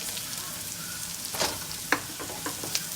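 Garlic and peppers fry in a wok for a healthy stir fry, a steady close sizzle with a few sharper crackles and stirring scrapes, and no voices over it.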